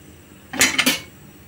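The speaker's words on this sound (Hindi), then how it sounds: "इसे किनारे से इस तरह से मिक्स करें।" A spoon stirs shahi mutton biryani in a metal pot, producing a short cluster of two or three close clinks and scrapes against the pot.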